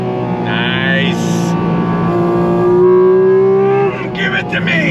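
A Porsche 718 Cayman GT4 RS's mid-mounted engine pulls hard in third gear on a track, a loud, close rising howl that climbs steadily in pitch before a sudden lift-off near the end, with music playing underneath.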